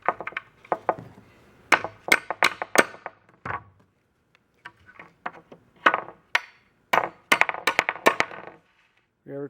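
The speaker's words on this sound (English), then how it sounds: "I'm just going to hammer these in." Repeated sharp hammer strikes driving pieces into a wooden template, in bursts of several quick blows separated by short pauses, close and loud, with a brief voice near the end.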